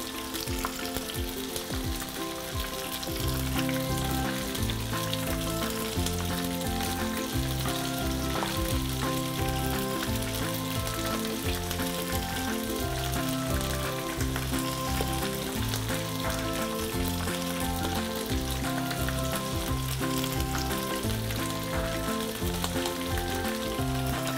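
Ukoy fritter batter dropped into a pot of hot oil, frying with a loud, steady crackling sizzle that swells after the first few seconds and holds dense and close throughout.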